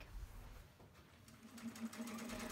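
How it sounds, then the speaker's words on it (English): A sewing machine runs steadily and quietly, stitching along the edges of a fabric envelope pillow cover with a continuous whirring hum. "The last thing to do is to sew all sides of the fabric."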